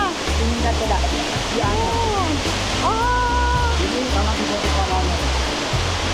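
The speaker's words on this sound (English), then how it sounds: "We're completely enveloped by waterfalls going down." A waterfall in Sulawesi, Indonesia, cascading all around, a loud, continuous roar of falling water close by, with voices talking over it throughout.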